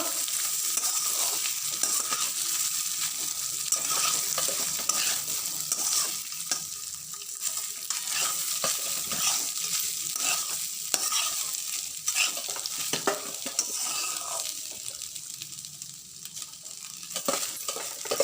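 Cooked rice being stir-fried in a pan for homemade fried rice, a steady loud sizzle with repeated scraping and tossing strokes of a spatula, continuous and close with no talking.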